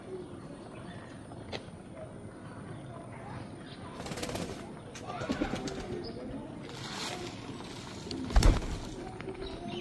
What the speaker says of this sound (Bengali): তো কবুতর পোষার একটা মজা আলাদা।